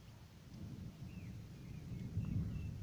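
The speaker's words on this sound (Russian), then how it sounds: "Гром гремит." Low, distant thunder rumbles steadily, building slightly in strength over a faint hiss of rain.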